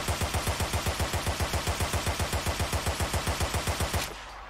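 Gunfire from a video game weapon during recoil testing: a rapid automatic burst of about thirty evenly spaced shots, loud and close, that stops abruptly near the end.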